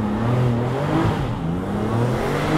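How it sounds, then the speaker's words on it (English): A Porsche 996 Turbo with a manual gearbox pulls uphill from a standstill, giving a steady loud engine drone that rises slightly and is heard close and alone. "since we are going a little bit uphill, let me accelerate like this"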